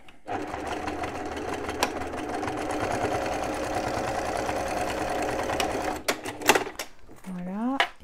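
Domestic sewing machine running a long, steady topstitching seam on a bum bag, a dense rhythmic whirr that stops near the end, followed by brief handling clatter and a short rising mechanical whine.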